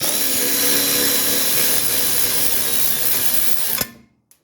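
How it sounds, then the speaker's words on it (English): A wrench works on a bolt in the rear suspension of a Mercedes 300TD, giving a loud, close, continuous rattling mechanical whir for several seconds that stops sharply near the end. "We're going to get this wrench right up in here."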